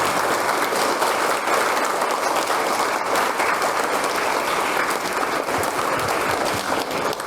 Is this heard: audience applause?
yes